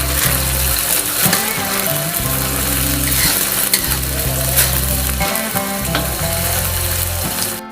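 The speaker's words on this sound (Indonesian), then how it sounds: "Ini kita goreng sampai kering" Curly red chili frying in oil for a fish roe stir-fry, a loud continuous sizzle with occasional stirring scrapes and a low background hum throughout.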